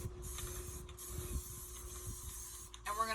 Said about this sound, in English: So then you could spray paint this whatever color you would like to spray paint it.